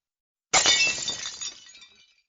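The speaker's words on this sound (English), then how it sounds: "You smashed it!" Glass smashing with one sudden loud crash, its bright shattering fragments ringing and tinkling as they fade out over a second or so, alone without any talking.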